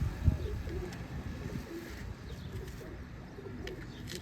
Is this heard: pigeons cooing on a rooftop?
yes